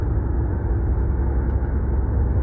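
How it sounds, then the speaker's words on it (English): Road traffic heard from inside a moving car: a steady, loud, low rumble of tyres and engine that fills the cabin evenly throughout, with no one talking. "there's a little bit of traffic"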